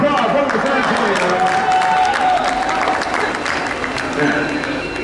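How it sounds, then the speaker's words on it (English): Passengers on a San Antonio River Walk cruise boat clap in a scattered round of applause, moderately loud, mixed with crowd murmur and voices talking over it. "Everybody, let's give a round of applause"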